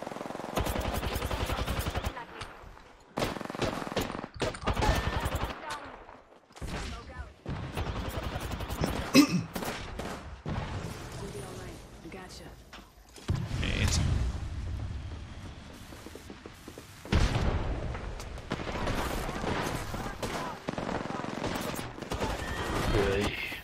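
Bursts of automatic and rapid gunfire from the Apex Legends video game, loud and repeated in clusters across the clip, with short pauses and quieter stretches between volleys.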